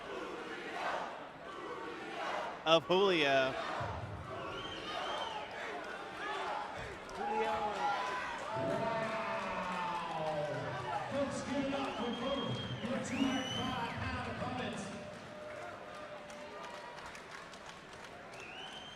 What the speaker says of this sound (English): Julio Gallegos, you hear the chants from his hometown crowd here